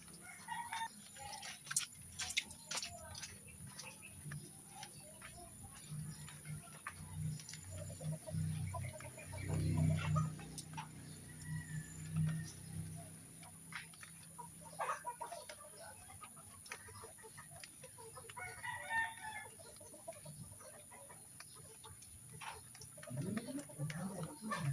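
Chickens cluck around a feeding area while a rooster crows now and then, the birds moderately close amid a steady background with occasional talking.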